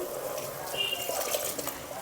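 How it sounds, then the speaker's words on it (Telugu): Water pours into a pot of tamarind and brinjal dal with a steady splashing trickle, close by and fairly quiet, lasting about two seconds. "చింతపండు వేసినాక ఇంకొంచెం వాటర్ వేసి"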